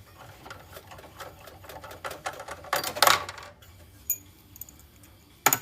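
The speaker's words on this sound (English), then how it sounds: "Go ahead, unscrew these." Screws being taken out of an old sheet-iron desktop PC tower, with a fast mechanical whirring of a driver, metallic clinks and rattles, close and loud, then quieter scattered clicks and a final sharp clank.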